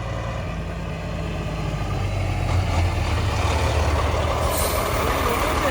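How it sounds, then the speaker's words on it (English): A big old International single-drive truck runs with a deep, steady diesel rumble that grows slightly louder midway, close by and continuous, with no talk over it. "That sounds like the big old International"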